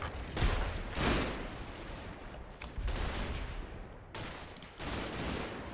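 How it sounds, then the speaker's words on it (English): MG42 machine gun fire in the World War II game Combat Mission, a series of loud, ripping automatic bursts with brief gaps between them, harsh and dense, with battlefield noise filling the pauses. "That's how fast they just burn through their ammo with the old 42."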